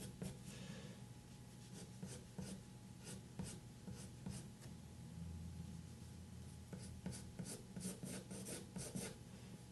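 Pencil lines being drawn on paper for a sketch of Sven from Frozen 2, a steady close scratching and rubbing with short repeated strokes, with no talking.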